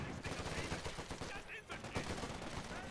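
Machine gun fire in the real-time strategy game Company of Heroes 2: dense, continuous rattling bursts of automatic fire mixed with other battle noise, with a commentator's voice running over it.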